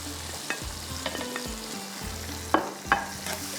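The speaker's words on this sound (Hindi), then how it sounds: "हाई फ्लेम पे स्टर फ्राई करना है।" Red and green capsicum stir-fried on a high flame, a close steady sizzle broken by a few sharp spoon clacks against the pan, with no talk.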